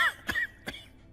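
A character coughs in an English-dubbed anime scene, two short, rough coughs close up with a brief pause between them, over a faint tonal background.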